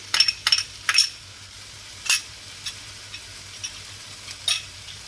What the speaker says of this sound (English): To this, we are going to add our ginger garlic paste completely.